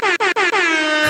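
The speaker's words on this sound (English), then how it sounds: "Just have a guy with the air horn go around" A loud, close air horn blares in three short choppy bursts followed by one longer sustained honk, bright and brassy with a slightly falling pitch.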